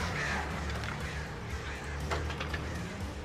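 Crows attack in the video game Alan Wake, giving repeated raspy caws and flutters over a thick, continuous wash of game ambience.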